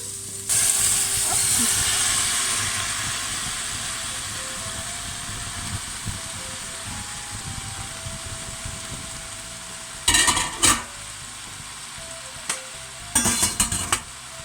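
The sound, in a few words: cooked Swiss chard sizzling in pan with ricotta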